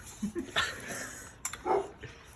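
A dog gives a few short, high whimpers and whines in uneven bursts, fairly close, with quiet room noise between them.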